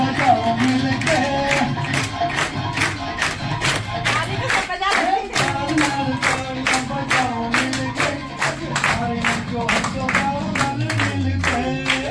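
Continuous rhythmic hand clapping from a group at a Lohri celebration, sharp dense claps repeating steadily for the whole stretch with a faint undercurrent of voices beneath.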